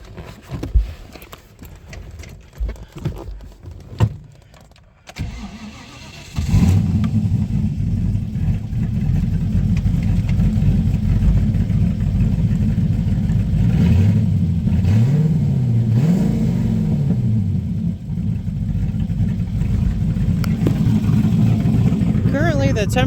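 A 1998 TVR Chimaera 500 V8 is started up after a few seconds of quiet handling noise, then settles into a loud, steady idle that holds close by with brief rises as it revs.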